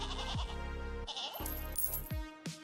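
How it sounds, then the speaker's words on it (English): Goat bleats ring out as a stream alert in a Megastore Simulator session, several wavering calls in quick succession, loud and close over a background music bed with no talking. "just watch the screen and hear the goat sounds"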